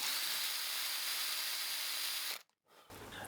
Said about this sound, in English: To mount the label holder to the cylinder, I pre-drill some holes.